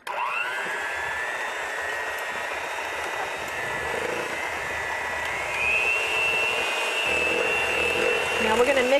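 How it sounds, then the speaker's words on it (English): An electric mixer whirs steadily through banana bread batter, a constant motor whine that rises slightly in pitch and strength partway through as the beaters work the mixture smooth. "Now we're going to mix this where it's not lumpy."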